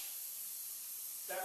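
A spray gun applies coating through its nozzle with a loud, steady, close-up hiss that swells slightly in its final moment.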